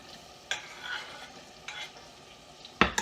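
Vegetables for broccoli soup are stirred in a pot, with a few distinct scraping clacks of a utensil against the pot over a soft background simmer, close and moderately quiet, no speech.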